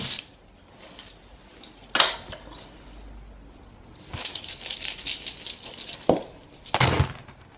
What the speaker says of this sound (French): Je vais prendre avec les plus grosses breloques.